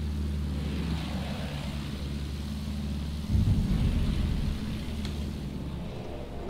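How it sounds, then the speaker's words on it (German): Propeller aircraft engines drone steadily in a Battlefield 1 match, a continuous low rumble that swells louder and rougher midway through, with no voices over it. "Ich höre Flugzeuge"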